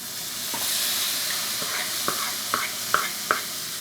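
Tomatoes sizzle as they go into a hot, uncleaned wok, a steady frying hiss broken by several sharp crackles and pops toward the end, close and fairly loud with no talking.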